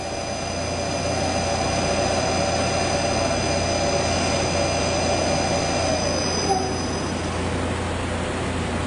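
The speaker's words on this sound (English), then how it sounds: "turn my spindle on again backwards, come down and physically hit the edge of that tool" A CNC machine spindle running in reverse during tool setup with a probe gives a steady, loud mechanical whine with sustained tones over a constant hum. One tone drops away near the end, and no one speaks.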